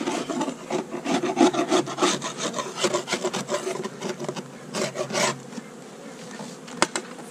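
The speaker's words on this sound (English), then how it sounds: "And hopefully the bees will get out." Honeybees buzz steadily through a hive inspection in which a medium box is being removed from a very large colony, a dense close-up hum with scraping and rubbing of wooden frames, thinning out toward the end.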